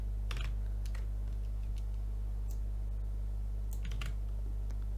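Typing on a computer keyboard, a few scattered light key clicks in short bursts over a steady low electrical hum, quiet and close.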